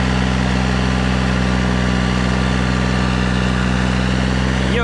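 A New Holland 3630 tractor engine labours in deep mud in four-wheel drive, a loud, steady low rumble that holds throughout with a faint rising whine near the end.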